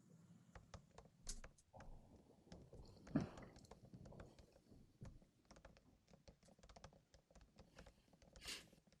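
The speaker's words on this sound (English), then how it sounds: "Just give me a moment to type this in." Someone types on a computer keyboard in a quiet room. Faint, irregular key clicks come in quick bursts, with scattered louder taps.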